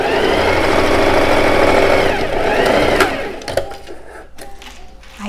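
A domestic sewing machine stitches a blouse seam from armhole to hem with a loud, steady, close mechanical whir that slows, stops, then gives way to a few clicks and handling knocks.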